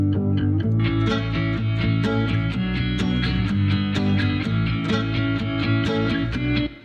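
Electric bass layered with electric guitars in the track, a dense, steady instrumental groove with repeated sustained chords and a full low end that plays loud throughout, then drops off abruptly at the very end.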